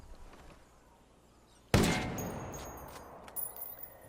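A single sharp, loud SRSA1 sniper rifle shot fitted with a PKS-07 scope in Ghost Recon Wildlands, followed by a long ringing decay and a faint later clink.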